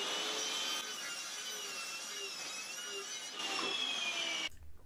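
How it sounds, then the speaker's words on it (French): A miter saw cuts through a wooden wall cladding panel for a pellet stove surround, a steady loud whining cut running for over four seconds before stopping abruptly, heard alone. "Pour les coupes, j'ai utilisé la scie à onglet qui permet d'avoir une coupe nette et bien droite."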